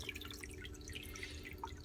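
Water drips and trickles steadily in an off-grid aquaponics system, where it collects before being pumped back up through a green pipe. The sound is a faint, continuous patter of small drops over a low, steady hum.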